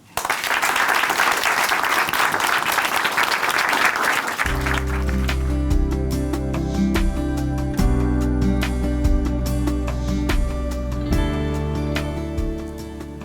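A church audience at Chuncheon Hanmaeum Church applauds to welcome someone speaker to the stage, steady dense clapping that gives way midway to loud instrumental music continuing under the fading applause.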